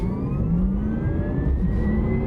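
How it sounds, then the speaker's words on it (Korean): Synthetic sport sound from a Porsche Taycan 4S electric car, played through its speakers: a steady, futuristic whine with slowly rising tones over a low hum, continuous and close. "전기 모터 소리를 약간 포르쉐만의 스타일로 되게 잘 만들어서 그걸 스피커로 내보내는데"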